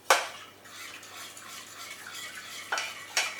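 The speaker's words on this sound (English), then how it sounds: "Some milk in. Stir it around." A spoon stirs milk into a chicken pie mixture in a bowl, with sharp scraping clinks at the start and near the end and a soft continuous swishing between them.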